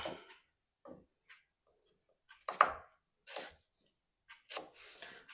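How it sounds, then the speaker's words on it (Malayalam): Onions are chopped for noodles in a home kitchen, a handful of sharp, sparse knife knocks on a board spaced unevenly across a quiet room. "അപ്പോൾ നമുക്ക് സവോള ഗിരിഗിരി ചെയ്യാം"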